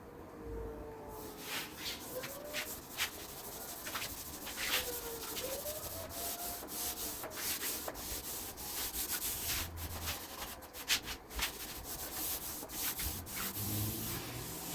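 A cloth is rubbed back and forth across a fireplace mantel in steady, repeated strokes, soft and close, with no talking.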